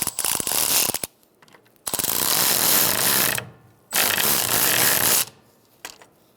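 A hand ratchet clicks rapidly in three separate bursts while snugging wheel cylinder bolts on a 1998–2011 Ford Ranger rear brake, close and loud, with brief pauses between the runs.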